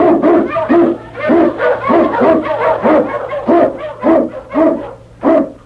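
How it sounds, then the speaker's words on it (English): An Eskimo lead dog, staged as a radio drama sound effect, barks loudly and close in a steady run of about a dozen rhythmic barks with short gaps between them. "King, the swiftest, strongest of Eskimo lead dogs, blazes the trail through storm and snow"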